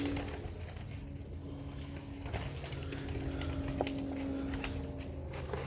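Racing pigeons coo softly and steadily in a loft, a low continuous murmur with faint rustles and occasional brief clicks, no voices present.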